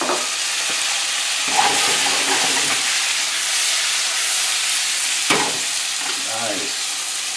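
Tomatoes go into a hot pan for a pork tenderloin tomato demi-glace, bringing up a loud, steady sizzle and hiss close by, broken by a few short scrapes of stirring.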